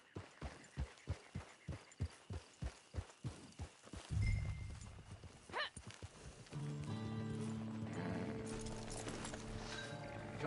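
Horse hooves clip-clop in a steady, even rhythm in Red Dead Redemption 2, close and clear, then stop as the horse snorts and the scene gives way to louder ambient game sound.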